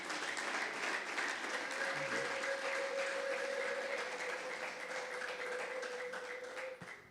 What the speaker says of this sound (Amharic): እስቲ አጨብጭቡለት